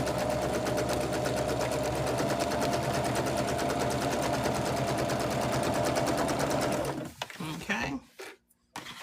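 A sewing machine stitches patchwork seams for a pillowcase cover, a steady close mechanical whir with fast needle ticking that runs continuously, then stops abruptly, leaving a few brief handling noises.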